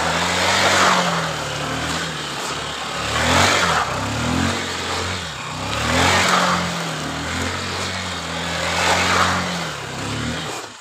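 A motorcycle being ridden for bike stunts revs in repeated surges, rising and falling roughly every few seconds, near and fairly loud against wind and road noise.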